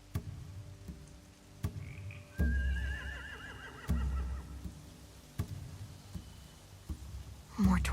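Horses neighing and whinnying in The Walking Dead video game, a few high wavering calls over a low ambient backdrop with scattered thuds and game effects.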